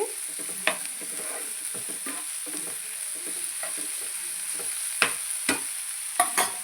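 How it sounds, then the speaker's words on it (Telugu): Goat tripe frying with tamarind leaves in a pan, village style, giving a soft sizzle under repeated scraping stirs of a spoon, with a few sharper clinks. "ఇంకా అలాగే ఉంచి తిప్పుకోవాలి ఫ్రెండ్స్ మొత్తం అంతా కలిసేలా కలుపుకోవాలి"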